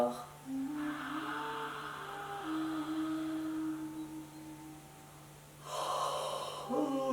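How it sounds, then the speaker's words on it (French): Deep breaths drawn in and pushed out through a wide-open mouth during a children's yoga relaxation, two or three airy gusts rising over a soft steady tone and faint background music. "Ouvrant grand la bouche, fais rentrer l'air et sortir l'air de ta bouche."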